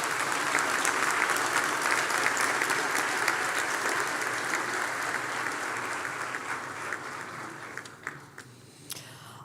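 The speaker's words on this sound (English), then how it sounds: "Please give ourselves and each other a big round of applause." Sustained applause from a seated audience at a health sciences graduation ceremony for occupational therapy graduates, a dense steady clatter of many hands that gradually thins and fades toward the end, with no talking.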